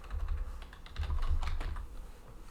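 Quick keystrokes on a computer keyboard tap out a terminal command in short bursts with brief pauses, close and clear, with no voices.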